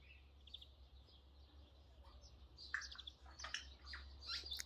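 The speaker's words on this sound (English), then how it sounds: "My morning serenade of the doves." Doves singing in a garden in the Galilee on a quiet morning, with soft, fairly distant calls and chirps scattered over a low steady hum, growing busier toward the end.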